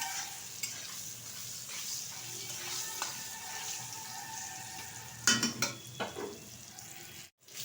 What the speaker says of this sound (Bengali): পটলটা একটু লাল লাল করে ভাজবো